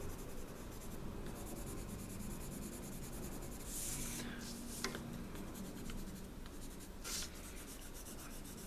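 Pencil shading and colouring on paper produces continuous soft scratchy strokes, close and quiet, with a few sharper stroke bursts along the way.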